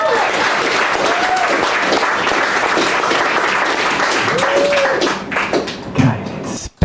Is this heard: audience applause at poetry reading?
yes